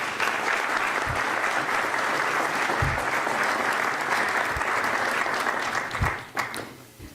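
Audience at a heraldry society's year-end ceremony applauds an honoree, a thick, sustained wall of clapping with a few low thumps, fading off in the last second.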